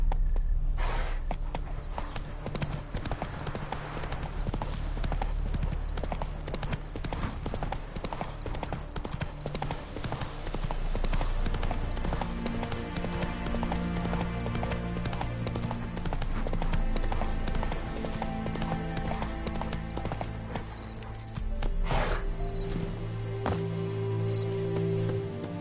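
Roach the horse gallops in The Witcher 3 with rapid, continuous hoofbeats pounding steadily up close over a layer of game ambience and music, and no one speaks.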